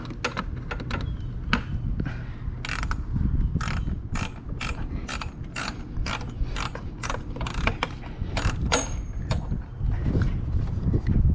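A socket wrench ratchet loosens a bolt during a JB4 install on a BMW X1 M35i, clicking in rapid, regular bursts of sharp ratcheting close to the mic over a low background hum, with no speech.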